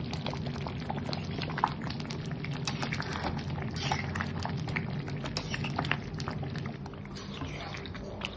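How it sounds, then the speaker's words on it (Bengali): Chicken chaap simmering in a pot with roasted spice mix, a steady close bubbling and crackling boil with scattered sharp pops throughout. "মানে এটা জাস্ট চিকেনটা সিদ্ধ হচ্ছে"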